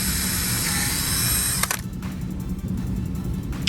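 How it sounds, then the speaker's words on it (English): A drill bores mounting holes with a 3.5 mm bit for a Bluetooth comms bracket on an off-road side-by-side, a loud steady whine that cuts off abruptly, followed by rattling mechanical clicks. "This will give you your holes that you're going to want to drill for your mounting screws."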